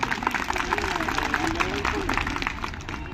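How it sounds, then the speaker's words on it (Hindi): A crowd gives loud, continuous applause at a tribal motivational stage event, dense clapping filling the moment with a voice heard over it. "और एक जोरदार ताली होनी चाहिए"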